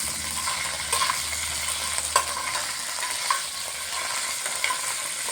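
Curry leaves crackle and sizzle in hot oil in a pan, a steady frying hiss broken by several sharp spoon clinks and stirring scrapes.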